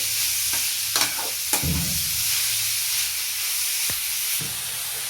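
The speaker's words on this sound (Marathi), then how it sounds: "याला छान असं 5 मिनिट असंच परतून द्यायचं" Grated radish stir-fried in a pan sizzles steadily, with a few sharp scrapes and knocks of a spatula against the pan breaking through the hiss.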